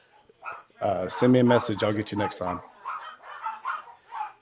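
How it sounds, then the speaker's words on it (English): Dogs barking in the background behind someone speaking at a NASCAR Xfinity race at Richmond, a cluster of rapid yips and barks over his voice, followed by softer, more distant barking. "sorry for the dogs barking here in the background"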